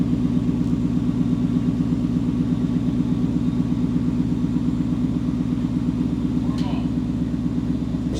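A 2020 Ford Mustang Mach 1 V8 idles through a Corsa cat-back exhaust with active valves, a steady, close, throbbing burble that holds even throughout, with people talking over it.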